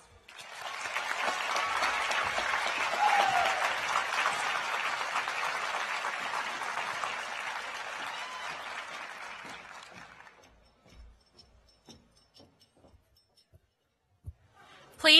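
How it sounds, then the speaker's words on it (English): Audience at the Heritage High School 2019 commencement ceremony breaks into sustained, loud applause for about ten seconds, then fades to near silence with a few scattered sounds. "join me in thanking our friends, families, and staff with a well-deserved round of applause"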